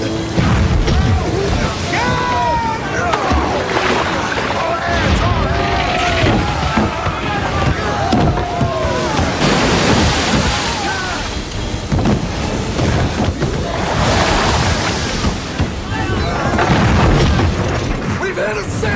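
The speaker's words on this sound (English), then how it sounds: "We've hit a sandbar!" A cartoon ship runs aground on a sandbar amid crashing waves, with heavy booms, splashing surges and creaking mechanisms while voices cry out over the noise.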